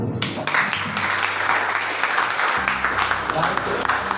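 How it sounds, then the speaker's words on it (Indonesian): An audience at a high school student council candidate debate claps in a dense, continuous burst that fills the whole stretch, with a voice faintly mixed in. "Berikan tepuk tangan sekali lagi untuk paslon nomor 1"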